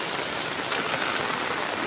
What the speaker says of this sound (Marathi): खूप पाऊस लागतोय